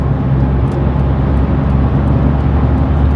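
Car accelerating onto a motorway, heard from inside: a loud, steady low engine and road roar filling the cabin without a break.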